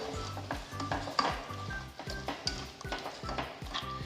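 Sliced onions go into hot prawn-frying oil for a prawn biryani, sizzling steadily while a spoon or spatula stirs and scrapes the pan in repeated rhythmic strokes, close and clear with no voices.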